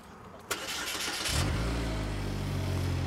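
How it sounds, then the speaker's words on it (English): A ConsuLab EM-140 engine training bench cranks briefly after a sharp click, then catches and settles into a steady, loud idle hum that continues to the end, with no talk over it. "So I'm gonna fire the engine up."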